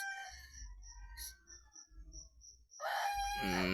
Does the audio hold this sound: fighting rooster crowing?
yes